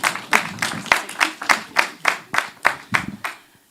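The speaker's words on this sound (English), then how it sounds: "Round of applause." A small crowd applauds, claps building into steady rhythmic bursts before fading out at the end, loud and close.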